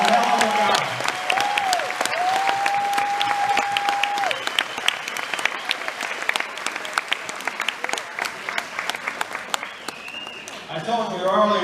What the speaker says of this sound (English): help me verbally celebrate the life of William Hood with a loud round of applause.